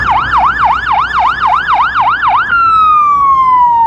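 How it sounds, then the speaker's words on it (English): An American fire truck siren wails loud and close, repeating a rapid rising and falling yelp for several cycles before switching to a long steady descending tone, with no talking. "I love the American fire trucks."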